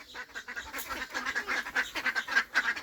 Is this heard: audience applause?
no